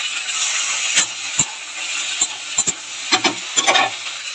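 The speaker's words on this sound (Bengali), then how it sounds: "দিয়ে দিয়েছি টমেটো" Tomatoes hit a pan of frying mixed vegetables with a steady close sizzle, broken by several sharp stirring scrapes and knocks, with no talking.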